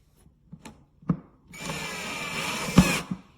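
A VIWKO 20V cordless drill drives screws into pre-drilled holes on hinges, with a few short taps and clicks before a steady whirring run of about a second and a half that ends in a sharp final burst.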